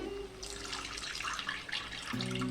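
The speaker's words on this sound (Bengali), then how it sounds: "এখন দিয়ে দেব জল" Water is poured into a pot of fish pulao made with fried puti fish, a steady splashing and gurgling pour, close and continuous for a couple of seconds.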